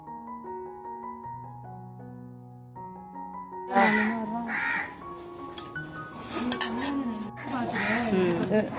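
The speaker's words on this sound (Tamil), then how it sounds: "நல்லா கிண்டிக்கோங்க." Chicken biryani is stirred in a pot, with metallic scraping, clinks and soft thuds of a spoon against the pot coming in after a few seconds of soft tonal background music.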